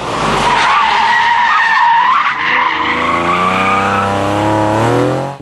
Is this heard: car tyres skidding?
yes